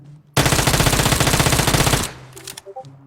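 Automatic gunfire from the mobile shooter game PUBG Mobile rips out in one loud, rapid burst lasting about 1.7 seconds, followed by faint game sound effects.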